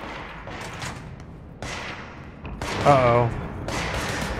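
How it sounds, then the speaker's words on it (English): Gunfire from a firefight in the video game Control, bursts of shots at moderate distance under tense in-game ambience, with a person speaking briefly over it. "I hear gunshots."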